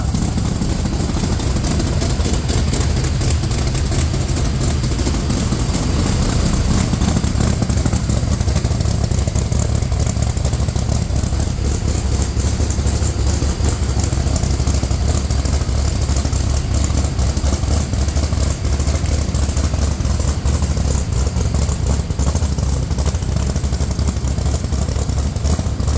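A rebuilt rock bouncer off-road buggy's engine idles steadily and loudly nearby, a continuous low rumble with a faint mechanical clatter on top, running without pause and with no voices.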